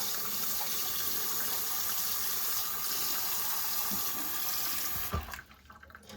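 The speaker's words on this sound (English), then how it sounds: "now I'm going to use cold water because I got to get them cooled down right away" Cold tap water pours steadily into a pot of boiled eggs, a constant splashing rush that stops abruptly near the end, leaving quiet room sound.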